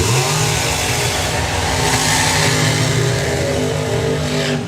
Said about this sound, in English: next up then, it is the Giles and Hartley Dragster